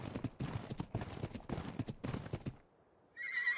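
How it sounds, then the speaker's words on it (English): A horse in the game Ark clops its hooves in quick bursts of close, loud steps, then breaks into a high, wavering neigh at the end. "It's the horse."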